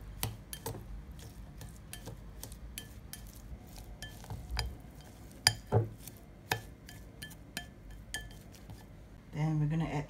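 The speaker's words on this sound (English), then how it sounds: "Let's mix the ginger and the spring onion up." Ginger and spring onion being mixed in a bowl give a series of light clinks and scrapes of a utensil against the dish, irregular and close, with a brief low voice near the end.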